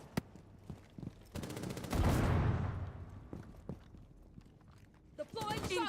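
A frag grenade tossed and detonating in the mobile shooter Rainbow Six Mobile: a few sharp clicks and bangs lead into a loud, broad blast that decays over a couple of seconds, with scattered gunfire-like snaps and a voice chiming in near the end.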